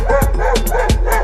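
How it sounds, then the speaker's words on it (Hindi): Two dogs outdoors give a quick run of loud, close barks and yips, about four sharp calls over a low steady background hum. "बाहर ये दो खतरनाक कुत्ते हैं"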